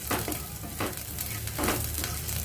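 Ginger frying in hot oil with mustard seeds, giving a steady, close sizzle with soft stirring scrapes that swell at intervals; no one speaks.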